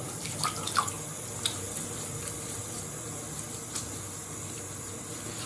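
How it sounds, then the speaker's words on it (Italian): A tap runs steadily with a constant hiss of hot water for rinsing during a traditional wet shave, broken by a few light splashes and drips, fairly close and without talk. "Sciacquiamoci con acqua calda"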